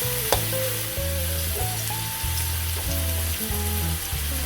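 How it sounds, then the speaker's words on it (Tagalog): Onions sautéing in a pan over raised heat for adobong kangkong, a steady sizzle that runs the whole time beneath a low droning hum, with no one talking. "hihintayin po natin na medyo brown na yung ating sibuyas"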